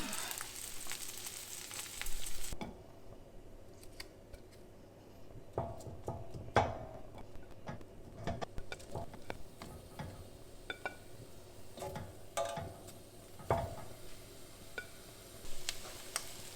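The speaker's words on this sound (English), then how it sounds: "so we'll just leave this to saute and char for a while" Asparagus and garlic sauté quietly in a pan, a low steady sizzle broken by scattered clicks and taps from the pan and utensil, with no one speaking.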